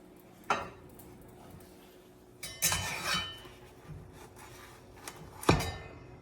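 A cast iron skillet is set on top of a muffuletta sandwich and shifted about, making a few distinct metallic clunks and scraping knocks spread over several seconds. Close and fairly quiet, with no talking.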